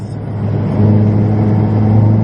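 A Ferrari accelerating out of a corner at Silverstone circuit, its engine a loud, close, steady drone that steps up in pitch and intensity partway through, with no talk over it.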